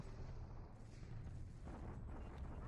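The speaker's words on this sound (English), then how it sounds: "Bombardment attack. Oh, yeah, pretty effective." A bombardment attack in a video game, heard as a faint, continuous low rumble of distant booming artillery with no distinct separate blasts.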